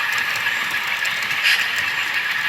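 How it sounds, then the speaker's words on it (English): A Rapido RS 11 model diesel locomotive runs with a DCC sound decoder, giving a steady, loud mechanical rumble and rail-like clatter with no talk over it. "this other more recently completed locomotive 2907, which is also a Rapido RS 11, which had its DCC sound decoder installed"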